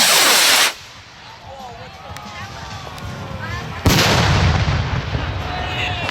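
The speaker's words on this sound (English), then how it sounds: "These are excellent Roman candles." Roman candle fireworks at a Fourth of July display fire two sharp, loud bursts about three seconds apart, each followed by a broad crackling hiss and whistling trails, with faint crowd noise underneath.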